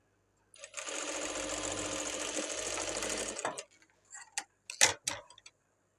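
A sewing machine stitching a blouse runs in one steady, rapid burst for about three seconds, close by, then stops, leaving a few brief clicks and knocks of handling the fabric.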